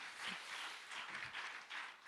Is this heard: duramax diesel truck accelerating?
no